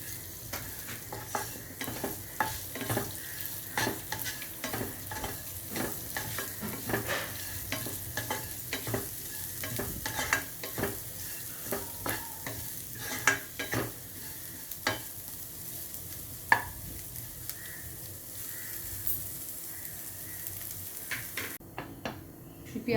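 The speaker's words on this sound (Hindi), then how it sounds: "इसी में प्याज भी डाल देनी है और इन सारी चीज़ों को भी भून लेना है अच्छी तरीके से।" Onions, cumin and fennel sizzle and fry in a pan for chicken kofta curry, with a spoon scraping and stirring in uneven strokes throughout, close and without talk.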